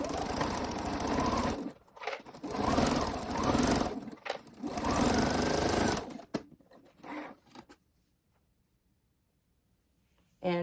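Sewing machine stitching slipper lining at normal stitch length, three loud bursts of rapid whirring, each about two seconds long, with brief pauses between, then quieter handling sounds and near silence.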